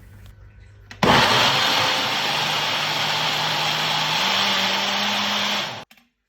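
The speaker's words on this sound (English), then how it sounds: "You don't want to blend this part so much." An electric blender whirring through lemon cake batter of eggs, vegetable oil, milk and vanilla, a loud steady motor roar that starts abruptly, runs for about five seconds with a slight rise in pitch, then cuts off.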